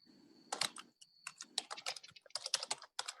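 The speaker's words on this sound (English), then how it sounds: "I can't type that fast." Rapid typing on a computer keyboard, bursts of close, crisp key clicks in an uneven rhythm with brief pauses, heard alone.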